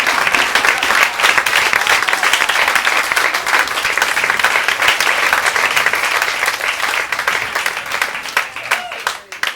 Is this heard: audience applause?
yes